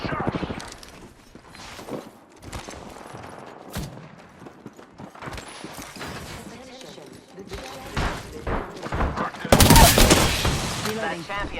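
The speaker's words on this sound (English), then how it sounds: "I'm getting shot." Gunfire from Apex Legends strikes the player in bursts of sharp shots, spread unevenly and building to a loud volley near the end, with spoken game callouts in between.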